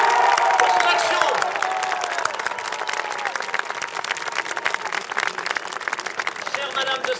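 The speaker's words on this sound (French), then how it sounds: "Mon cher Robert, maire de Béziers, vous pouvez applaudir encore aujourd'hui pour son action." A crowd applauds at an outdoor memorial ceremony in Béziers, France, sustained clapping with a few cheers, while a voice carries over it through a public address system.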